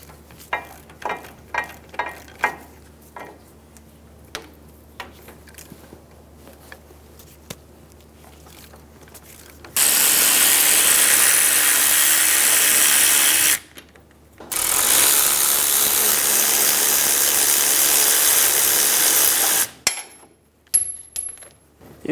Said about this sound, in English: Using an 18mm socket, we're going to remove the caliper bracket bolts.